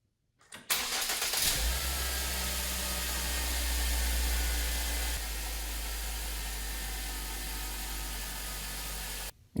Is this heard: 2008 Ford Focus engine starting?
yes